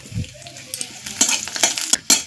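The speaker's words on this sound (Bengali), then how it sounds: "একদম ভাজা হয়ে গেছে, লঙ্কা আর রসুন।" Chili and garlic frying in hot oil for a leafy greens dish, a steady close sizzle broken by several sharp bursts of spattering and a few stirring scrapes against the pan.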